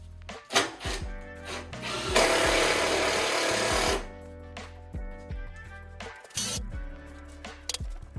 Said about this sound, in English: I'm gonna go ahead and use these screws to fasten everything.